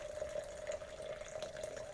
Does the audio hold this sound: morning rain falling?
no